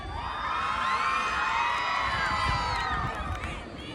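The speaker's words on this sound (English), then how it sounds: "Lot of cheers from the crowd." A school crowd cheers at a football final between the Tulip and Lily houses, with children's voices shouting and whooping in a loud, sustained roar.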